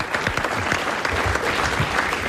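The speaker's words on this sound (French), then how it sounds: "on applaudit quand même" Studio audience applause on a French television quiz show, dense and loud continuous clapping with no pause for the full short stretch.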